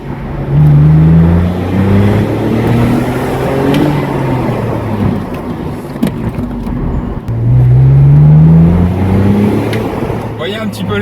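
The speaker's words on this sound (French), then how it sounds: "vraiment ça pousse, le bruit du moteur est juste incroyable" A powerful BMW Z4 engine roaring as it accelerates hard in sport mode, pitch climbing twice in strong surges, heard from inside with a voice talking over it.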